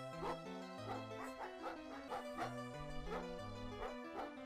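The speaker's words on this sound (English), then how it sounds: "I have a dog." Dog barking in the Hover Bovver lawn-mowing video game: a run of short, evenly spaced yaps sits over steady electronic game music, with no talking.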